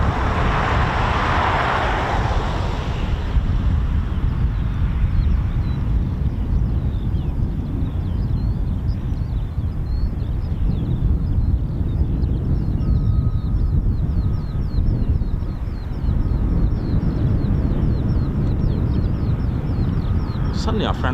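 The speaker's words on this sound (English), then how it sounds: "I love the sound that these F-108s make." A KC-135 Stratotanker powered by four CFM International F108 jet engines of 21,600 pounds thrust each makes a loud continuous roar and whine at an air force base, steady and close throughout.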